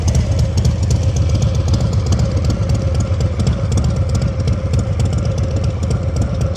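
A motorcycle engine running steadily at low speed during slow-speed riding practice, a continuous mid-pitched idle-like drone with a faint mechanical clatter, close and unbroken with no voices.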